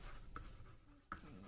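Faint scratching of a pen or marker writing an equation by hand, with a couple of light taps and strokes over a soft room hiss, no voice.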